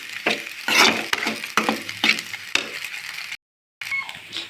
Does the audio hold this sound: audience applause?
no